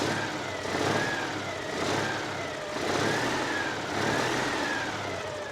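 A 1982 Citroen 2CV-6 Charleston's air-cooled 600 cc twin revs in several rising and falling swells, a buzzy, thrummy mid-pitched engine note heard close and fairly loud with no voices.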